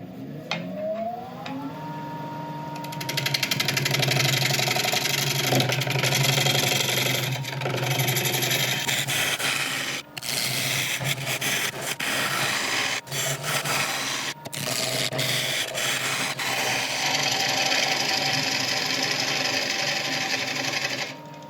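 An elm bowl is hollowed on a woodturning lathe with a half-inch bowl gouge. A steady motor hum runs under continuous close scraping and cutting, with a few brief dips where the tool lifts, and no talking.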